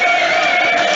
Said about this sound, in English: keep this crowd on their feet,